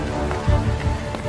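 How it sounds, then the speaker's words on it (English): Cockpit recording of the Air France 447 flight in which ice crystals strike the aircraft, a dense, rain-like patter of rapid hits over a loud continuous roar, with a few heavier thumps. "Experts analyzing the black box tape believe it's the sound of ice crystals hitting the aircraft."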